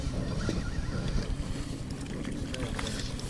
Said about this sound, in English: Watch the motor, Joe.